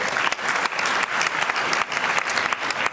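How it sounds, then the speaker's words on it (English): Dense audience applause at a school district recognitions ceremony, steady sustained clapping from a room full of people, fairly close and loud throughout. "give yourselves a round of applause"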